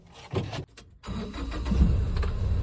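A car engine cranks in short bursts, pauses, then catches and settles into a low, steady running rumble up close, with no speech over it.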